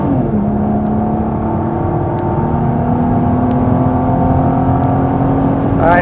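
A car accelerates hard during a launch test, its engine holding a loud, steady roar with a rising whining tone that climbs through the gears, close and continuous with faint ticks over it.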